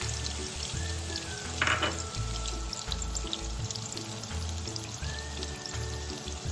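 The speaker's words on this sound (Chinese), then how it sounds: "再将预先备好的葱蒜泥倒入爆香" A garlic and shallot paste hits hot oil over medium heat for a cassava curry and sizzles loudly and steadily up close, with a brief splashy burst near the start and no talking.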